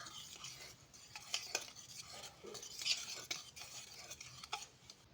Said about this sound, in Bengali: এবার পুরোটা একসাথে মিশিয়ে নেব।